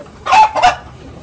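Hens at their nests on a small ranch cluck twice in quick succession, close and fairly loud against a quiet background.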